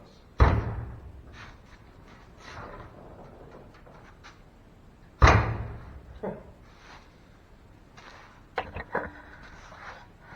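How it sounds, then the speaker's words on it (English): A sharp thud of a 1957 Chevy car door swinging open, then a second similar thump a few seconds later, with faint clicks and rattles in a quiet space. "the door opens"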